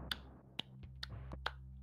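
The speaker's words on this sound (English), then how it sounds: "Slow clap." Several sharp, isolated claps or snaps come about half a second apart in a slow, deliberate rhythm, close and crisp against a quiet background.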